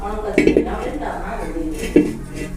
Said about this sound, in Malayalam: അപ്പോൾ നമുക്ക് ചട്ടി വെക്കാം.